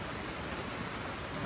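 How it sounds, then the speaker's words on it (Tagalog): Rain falls outdoors as a dense, even hiss that fills the whole moment, steady and fairly quiet, with no voices over it. "Hindi, umuulan. Nauulanan ako."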